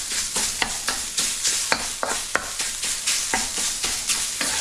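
Italian sausage broken up with a spatula in a hot pan for a day-old pasta stir-fry, steady loud sizzle punctuated by sharp, irregular scraping and tapping strikes, no talking.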